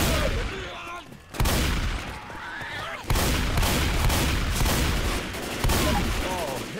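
Left 4 Dead 2 gunfire, heavy continuous volleys of rapid shots in loud close bursts that keep going for the whole stretch, with shouting voices and chaotic game noise mixed in.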